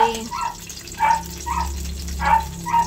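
A dog whines in a series of short, high-pitched cries spaced about half a second apart, heard over a low rumbling hum and faint kitchen noise.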